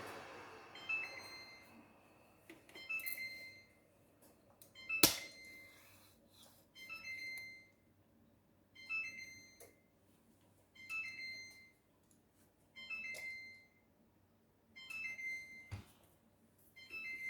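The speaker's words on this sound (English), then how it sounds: "Our timer is going off now." A kitchen timer goes off while a lemon butter cake bakes, sounding repeated bursts of high electronic beeps in a regular pattern roughly every second or two, fairly faint against a quiet kitchen background.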